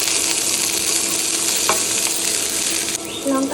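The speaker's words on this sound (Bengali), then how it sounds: "কড়াইয়ে সর্ষে তেল দিয়ে দিচ্ছি পেঁয়াজ কুচি দিয়ে দেবো" Chopped onion frying in mustard oil in a wok gives a steady, loud sizzle with light stirring scrapes throughout, and a short clink partway through.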